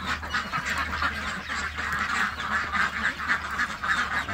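Yi Liang ducks kept in a pen at a farm quack repeatedly in a busy, overlapping chorus that stays close and moderately loud throughout, with no one talking.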